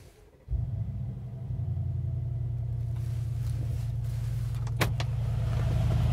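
A 2020 Mercedes G63 AMG V8, set to Sport Plus, cranks and fires with a sudden loud roar, then settles into a deep, steady idle rumble heard close to the exhaust.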